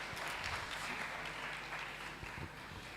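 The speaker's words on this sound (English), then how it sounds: "Another round of applause, please." Audience applause for a speaker at a tech convention, a steady wash of many hands clapping heard faintly from a distance, with no clear voices.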